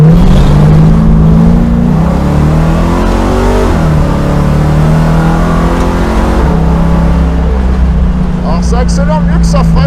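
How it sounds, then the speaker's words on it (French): Dodge Charger muscle car accelerating hard away from a red light on a street drag run, its loud engine note climbing steadily through the gears right up close, with brief chatter audible toward the end. "Alors ça accélère mieux que ça freine, hein."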